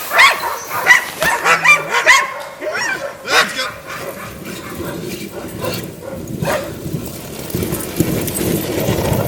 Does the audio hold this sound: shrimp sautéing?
no